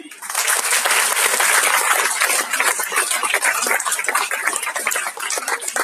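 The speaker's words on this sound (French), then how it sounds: "on peut l'applaudir" An audience at an awards ceremony for a 2019 business creators' challenge breaks into steady, dense applause. The clapping stays loud and continuous for several seconds, a broad wash of many hands with no talk over it.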